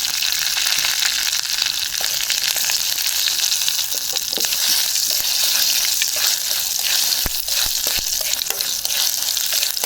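Curry leaves and chillies fry in hot oil as a tempering for tomato pachadi, one chilli charring, with a loud continuous crackling sizzle and occasional stirring scrapes and pops, no one speaking.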